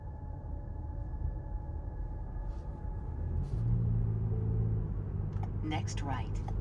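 A Toyota car drives slowly over a bumpy road, giving a steady low cabin rumble with a faint whine that swells slightly as it pulls away. Brief voice sounds come near the end.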